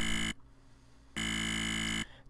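Dubstep synthesizer tone in FL Studio, pitched down 12 semitones, sounds as two loud sustained buzzing blasts with a short silent gap between them, like a harsh electronic buzzer.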